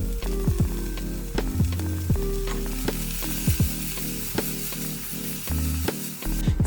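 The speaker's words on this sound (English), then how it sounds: "I'll use the same pan to stir-fry the shallots along with green onions." Shallots and green onions stir-frying in a pan, a loud continuous sizzle broken by frequent sharp spatula scrapes and knocks against the metal, close up and busy throughout.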